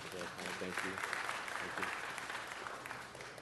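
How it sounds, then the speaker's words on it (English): An audience applauds at a city council meeting, a dense, steady round of clapping from many hands filling the room at moderate distance, with some voices mixed in. "Everybody give him a round of applause."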